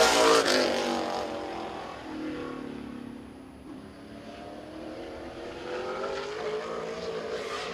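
The number 12 race car at Birch Run Speedway, driven by Nick Lakota, roars past at a distance. The engine rises, dips and swells again as it laps the track, fairly faint overall.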